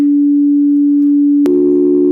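A pure 288 Hz sine tone plays loud and steady, then other tones join it partway through to form a sustained chord.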